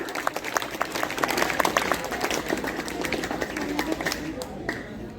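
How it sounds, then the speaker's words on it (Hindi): An audience at a general knowledge competition run by a youth group in Paigaon, Mathura, applauds to welcome the guest of honour, a loud, dense burst of clapping from many people that carries on steadily and fades near the end. "सुजाता मैडम जी जो कि विशिष्ट अतिथि थे हमारे प्रोग्राम की, तालियों से स्वागत किया जाए।"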